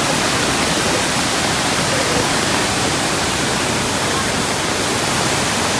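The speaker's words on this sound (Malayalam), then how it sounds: "പശ്ചിമഘട്ടത്തിന്റെ ഭാഗമാണ് അബി വെള്ളച്ചാട്ടം." Abbey Falls, a Western Ghats waterfall in Coorg swollen by monsoon rains, roars as a loud, steady broadband rush of falling water with no break across the whole stretch.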